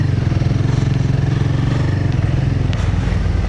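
A motorcycle rides a muddy mountain road linking Tripura and Manipur, its engine droning steadily and loudly up close with rattling clatter, alone with no talk.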